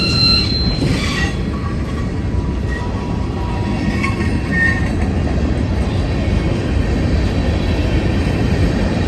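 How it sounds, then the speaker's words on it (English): A long freight train led by three locomotives rolls past close by, a steady loud rumble of wagons and wheels with occasional squeals and clatter running on without a break. "will this train ever end?"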